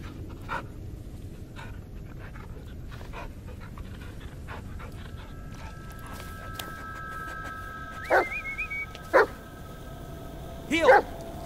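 A dog in the PC game Blair Witch pants softly in the background, then gives a few short, sharp barks and yips near the end, fairly close but moderately quiet.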